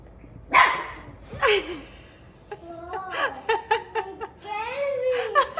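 A newly adopted puppy at home gives a run of short, near yips and barks that rise and fall in pitch, with brief pauses between them and some faint household background.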